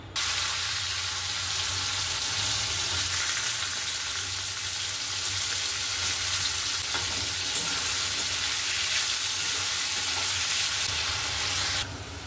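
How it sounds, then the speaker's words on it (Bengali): Sliced potatoes frying in hot oil in a home kitchen pan, a steady, loud broadband sizzle that holds throughout with faint stirring scrapes and no talking. "আলু এদিকে ভাজা হয়ে গেছে"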